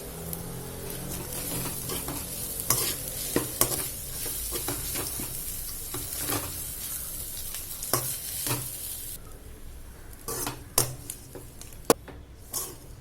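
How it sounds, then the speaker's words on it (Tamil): Cooked rice is stirred into a sautéed raw mango mixture in a pan, a continuous frying hiss with repeated spoon scrapes and knocks, close and busy throughout. "சாதத்தை போட்டு நல்லா மிக்ஸ் பண்ணி கிளறி விட்டுக்கலாம்"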